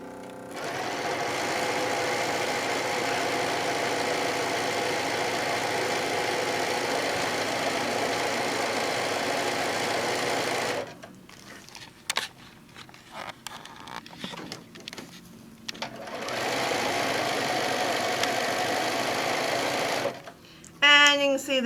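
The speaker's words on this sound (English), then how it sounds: "we're just going to do a real quick stitch around" A sewing machine runs in long steady bursts while stitching around a printed fabric panel for an apron, with a pause in the middle and brief quiet talk between runs.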